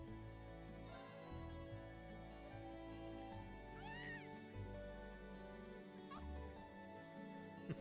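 A cat meows in The Legend of Heroes: Trails of Cold Steel, a short, rising and falling mew over steady game background music, with a second faint cry a couple of seconds later.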